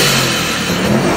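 Turbocharged car engine revving hard, a loud, sustained close-up roar with a hiss of blow-off valve air layered over it, no voices.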